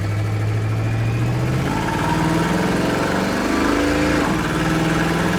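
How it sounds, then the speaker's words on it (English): A 1949 Ford F-1 pickup truck with a turbocharged 350 V8 idles close by, a loud, steady low throb with a slightly wavering pitch and no one talking. "Truck idle's nice too."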